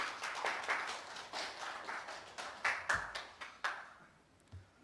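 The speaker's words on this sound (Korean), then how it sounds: "수군작 우리 편집장님께 다시 한번 큰 박수 부탁드립니다." Scattered, thinning applause from an audience at a political forum on a new third party in Gwangju, with a dozen or so irregular claps that fade out toward the end, fairly quiet and without talk.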